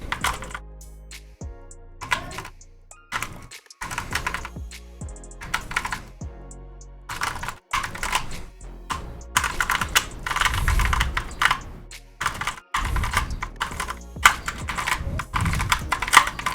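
Rapid clicky turning of a lubed and tensioned 2x2 puzzle cube, bursts of crisp plastic clacks with brief pauses between, close up and alone.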